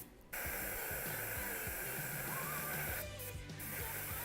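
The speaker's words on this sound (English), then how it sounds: "I am going to be spraying at kind of an angle so that we can have some of that dark red in our shadows" Steady close airbrush hiss of dark red paint sprayed at an angle onto a Deathwing miniature, running continuously for several seconds after a brief quiet start, with no talk.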